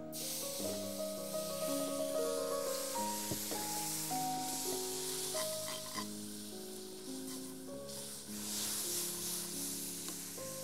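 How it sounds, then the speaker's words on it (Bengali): Melting sugar in a frying pan with a spoonful of water added, producing a steady loud sizzle and hiss throughout, under sustained music tones with no talking. "সুগারটা যখন মেল্ট হওয়া শুরু করেছে আমরা এখানে 1 টেবিল চামচ পরিমাণ পানি দিব।"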